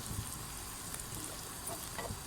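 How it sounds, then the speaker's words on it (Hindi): Potato pieces fry lightly in a pan for a sago recipe, giving a faint, steady soft crackle and hiss throughout with a few small pops. "अब हम इसको ऐसे हल्का हल्का ना फ्राई करेंगे आलूओं को"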